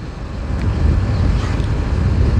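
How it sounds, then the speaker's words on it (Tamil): Strong wind roars continuously across the microphone, a steady low rumble with gusty buffeting throughout and no voices. "காற்று ரொம்ப அடிக்குது"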